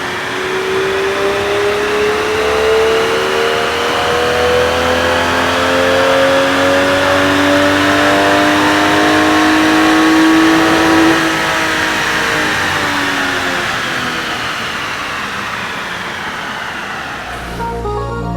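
A Lexus IS300 with a Toyota 2JZ-GE engine runs on a dyno, revving loud and close in one long climbing pull for about eleven seconds before the pitch drops and it winds down.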